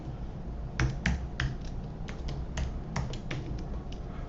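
Keys tapped on a computer keyboard while entering a password, a quick irregular series of sharp clicks with short pauses, close and alone.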